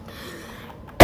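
A single sharp cough bursts out at the very end, loud and close, after a stretch of quiet room tone.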